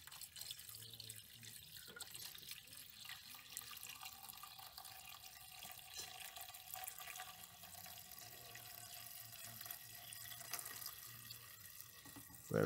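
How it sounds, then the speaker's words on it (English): Steady running tap water pours continuously into a Toyota Vitz windshield washer reservoir, a soft broadband rush that holds constant throughout with faint drips. "I'm going to put this and fill the water reservoir to the maximum level."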